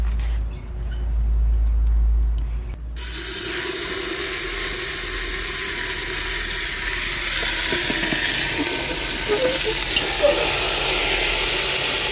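Mustard oil hitting a hot handi pot on a village stove for duck curry, bursting into a loud, steady sizzle and hiss that starts abruptly and keeps crackling close up.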